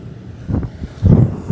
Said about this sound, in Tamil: காற்றடிக்குது இன்றைக்கு.